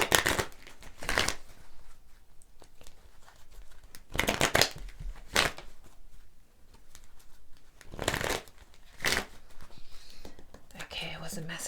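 Oracle cards shuffled in short bursts of riffling and sliding, several separate rounds a few seconds apart, close and soft with quiet whispery handling between them.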